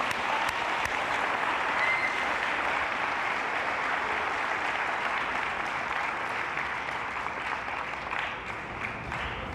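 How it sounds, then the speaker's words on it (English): Sustained applause from a graduation audience at a middle school ceremony, steady and dense clapping from a large crowd throughout, tapering slightly toward the end. "Let's give a round of applause again."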